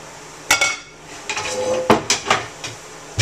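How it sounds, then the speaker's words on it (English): A frying pan is pulled out in a kitchen, giving a few sharp metallic clanks and knocks against other cookware, loud and close, followed by lighter clinks and short rattles. "grab one of my frying pans"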